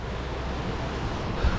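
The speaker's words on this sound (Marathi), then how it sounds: "मला इकडनं आवाज येतोय पाण्याचा" Water rushes with a steady, unbroken roar beside a mountain road in the Kinnaur valley, close and constant and mixed with wind-like noise.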